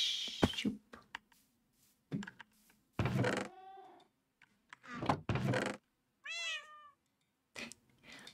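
Several cats in Minecraft meow in short, separate calls, some rising and falling in pitch, spread across quiet stretches broken by a few soft clicks and taps.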